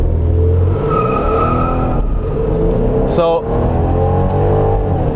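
A 2019 Mercedes-Benz C300 convertible accelerating hard, its engine droning loud and close with rising harmonics as it pulls through the gears, a brief sharp burst midway, while someone talks over it.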